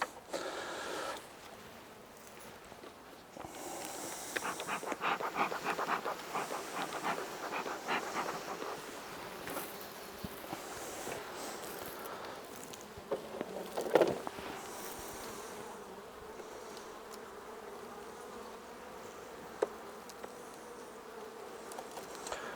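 A steady buzzing hum of many honey bees at an open hive fills the air close by, with occasional sharper buzzes and faint clicks as insects fly past.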